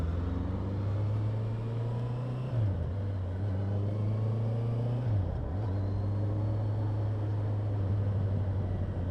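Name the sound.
truck driving on road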